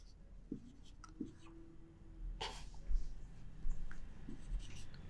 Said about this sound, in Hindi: अब अगर हम लिखते हैं